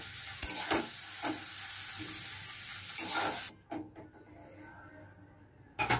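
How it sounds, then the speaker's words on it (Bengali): Okra sizzles in a pan with a bright crackling hiss and repeated stirring scrapes, then cuts to a near-quiet stretch before a last burst of frying sound. "আমার ঢেঁড়সটা ভাজা হয়ে গেছে"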